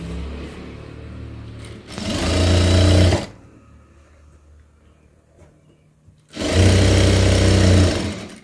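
A home sewing machine runs in two loud bursts, stitching down a petticoat seam, with a quiet pause between them and no talking.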